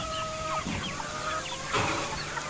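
Free-range village chickens in a traditional Konkan backyard poultry yard in Antravali, mostly young birds, clucking and calling continuously at close range, with scattered chirps and a busier burst of calls near the end.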